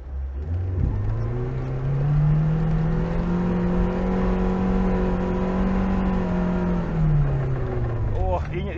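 A Lada Niva 4x4 engine revving steadily in first high gear with the differential locked, a loud sustained drone that rises briefly and holds before easing off near the end.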